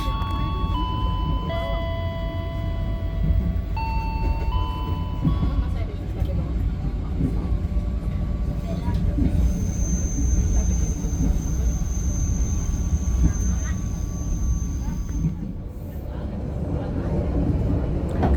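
KA Pangrango passenger train running between Bogor and Sukabumi, a steady close rumble of wheels and carriage with occasional squeals, heard from inside under continuous talk and background voices.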